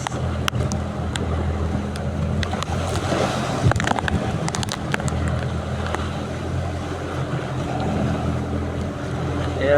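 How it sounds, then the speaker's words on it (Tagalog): Steady engine drone of a boat in rough sea with big whitecapped waves, broad rushing water and wind noise, occasional splashes and knocks punctuating the continuous roar. "Lalaki ng alon guys, oh, namumuti."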